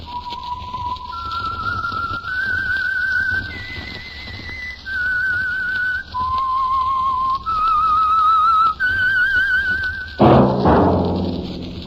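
A clear, close whistled tune, the theme of the old radio show The Whistler, with sustained notes stepping up and down, ending with a thump.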